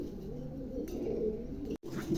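Low, soft cooing from pigeons murmurs on continuously nearby, a gentle throaty rumble broken by one brief gap.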